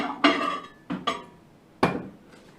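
A dish lifted out of a microwave with oven grips makes four clattering ceramic knocks and scrapes. They are close and crisp, separated by short pauses, and no one speaks.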